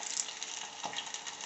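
Onions and aloe vera fry in oil with a bright, steady hiss, close and even, and one small stirring knock partway through.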